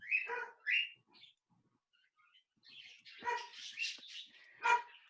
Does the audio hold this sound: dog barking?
yes